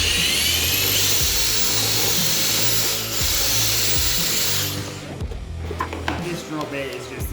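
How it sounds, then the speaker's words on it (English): A power drill bores through plastic while fitting a voltage meter with a USB port, a loud continuous high whine with shifting pitch for about five seconds, then stops, leaving scraping and handling noises. "this drill bit is just eating the plastic"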